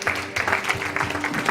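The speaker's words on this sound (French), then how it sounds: "Why are you clapping?" Congregation clapping at a spiritual revival service in Galesburg, USA, a dense steady patter of many hands, fairly loud and continuous, with voices mixed in.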